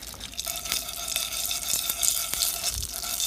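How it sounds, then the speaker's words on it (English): Granola sizzles in about a tablespoon of coconut oil in a deep pan, giving a steady close crackle and hiss with light stirring scrapes and no talking. "Now you can kind of hear that sizzle."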